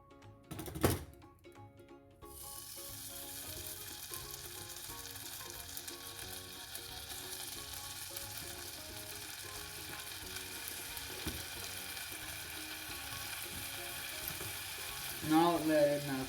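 Butter (100 grams) melting in a pan, a soft steady sizzle settling in after a couple of knocks and clatters at the start, quiet and continuous, with a brief louder scrape near the end.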